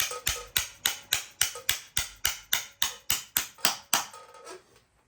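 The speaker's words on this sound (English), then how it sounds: "start hammering it in." A bearing is hammered into a drift boat motor: about fourteen sharp, evenly spaced metallic blows ring out close up before stopping, leaving a short fading tail.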